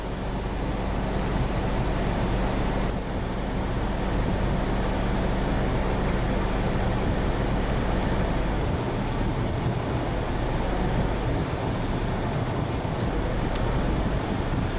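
Honda engine idling under the hood with the A/C compressor clutch cycling on and off, a steady loud broadband rumble with low-end hum that shifts in level partway through.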